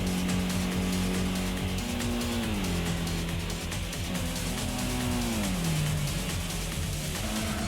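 Racing car driving in the PlayStation game Gran Turismo, a constant loud synthetic engine drone whose pitch steps up and down through gear changes, with no voices.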